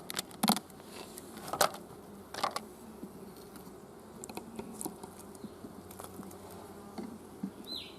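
Honey bees buzz in an open hobby hive holding a weaker colony, a steady low hum with scattered sharper bursts of nearby wingbeats and a few light clicks.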